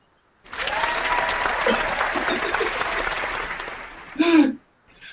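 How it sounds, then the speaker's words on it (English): Applause sound effect fired from a soundboard during a tabletop roleplaying game session, a dense burst of clapping and crowd noise lasting several seconds, ending in a brief louder squeal-like flourish. "If you make a really good roll, you have to have applause."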